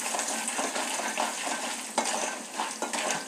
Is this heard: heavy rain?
no